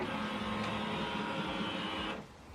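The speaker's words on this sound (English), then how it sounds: "you switch this printer on and off from this button" An HP OfficeJet Pro 8135e printer starting up, with a steady loud mechanical whir and hum that runs for about two seconds before cutting off abruptly, close by with no talking.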